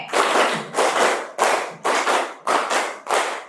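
A school class claps in unison in a rhythmic pattern, several sharp bursts of clapping separated by brief pauses, loud and close.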